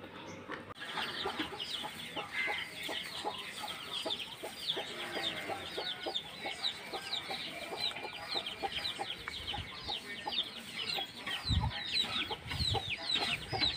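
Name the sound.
hen clucking with her chicks under a tree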